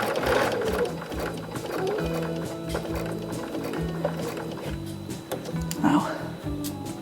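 A sewing machine hums steadily as it stitches quilt pieces for a sampler quilt, its motor running in a continuous, close, rhythmic drone with a brief pause near the end while someone talks over it.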